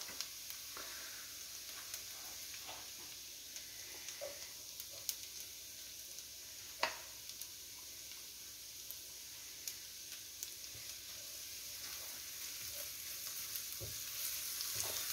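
Onion, garlic and bell pepper sauté in a pan for a vol-au-vent filling, giving a steady, quiet sizzle and crackle with occasional scraping clicks of stirring.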